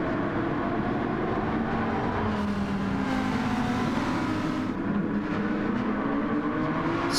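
A race car engine at the Nurburgring in a racing video game drones steadily and loudly throughout, holding a sustained tone with slight pitch shifts as the car eases through the first corner.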